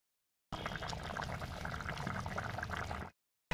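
Water with potatoes in it bubbles in a cooking pot as part of a village-style Assamese chicken dish. There is a soft, steady simmering hiss for about two and a half seconds, fairly quiet and close, with no voices.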